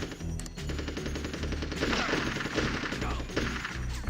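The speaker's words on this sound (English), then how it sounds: "Just a few more shots and we can move on." Video game gunfire from Army Men Sarge's Heroes, a steady stream of rapid shots and bursts layered over game music, moderately loud throughout with no voices.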